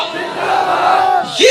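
A gathered crowd answers a Nara-e-Takbeer chant at a religious gathering with a loud unified shout that swells, then a single voice starts calling again at the end.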